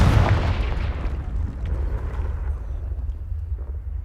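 A Confringo spell blast in the wizarding game Hogwarts Legacy: a loud, close explosion at the start that rumbles and slowly fades into a low, decaying boom.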